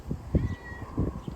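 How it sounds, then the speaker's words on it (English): A house cat meows several short times in quick succession close by, the calls bunched together over little more than a second, with faint background noise and no talking. "And Fussy the cat's come to see us."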